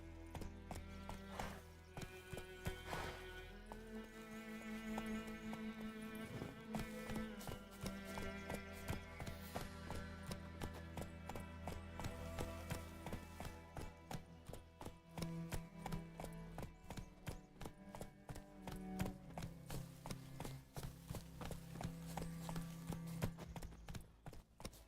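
Horse hooves clip-clop at a steady galloping rhythm in The Witcher 3: Wild Hunt, loud and continuous over game music with an occasional whinny.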